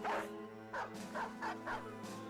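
A dog in the video game Battle Brothers barks and yips repeatedly in quick, close, fairly loud bursts over a steady game soundtrack.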